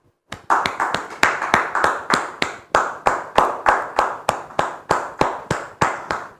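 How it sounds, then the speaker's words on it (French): Rhythmic clapping welcoming a guest at a church gathering, about twenty sharp, evenly spaced claps close by, each with a short ringing decay, steady in tempo with no talk. "Sous vos applaudissements, s'il vous plaît."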